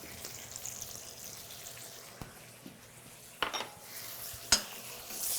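Garlic and crushed tomatoes being stirred in a hot pan: a faint, steady sizzle under a few soft scrapes and a couple of sharper utensil knocks on the pan, with no speech.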